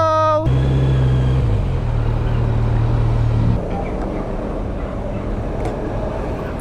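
Kawasaki Z900 SE motorcycle riding on a highway, a loud close engine drone with a rising gear note in the first half, then a steadier rush of road and wind noise.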